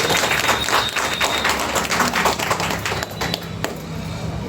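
An indoor audience at a health-product seminar breaks into loud, dense applause for a doctor, with sharp individual claps standing out before it gradually thins.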